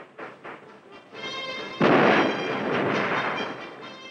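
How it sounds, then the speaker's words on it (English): A nose-mounted grenade launcher on a military helicopter fires, a run of rapid, booming thumps that merge into a loud rumbling roar, heard close and alone without speech. "Another development is a nose-mounted grenade launcher, which provides fire support over a wide area."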